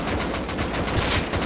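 Sustained automatic AK rifle fire in the survival game Rust, a dense, continuous burst of rapid shots that carries through the whole moment without pause.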